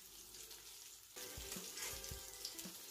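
Smoked meat in a pan beginning to sizzle once the heat comes on, a soft hiss that swells suddenly and then holds as a steady quiet frying crackle with a few light knocks.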